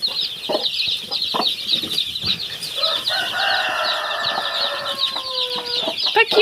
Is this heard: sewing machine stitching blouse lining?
no